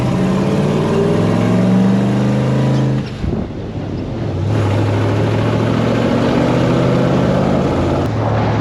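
A Chevrolet squarebody truck with a J-B Weld-repaired engine races a lap at the Hot Rod Power Tour, loud and close, revving in rising harmonic sweeps that dip briefly as it shifts before climbing again.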